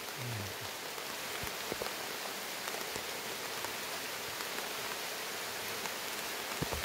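Steady rain patters densely and evenly on a surface outdoors, a constant broadband hiss with occasional sharper drop ticks throughout.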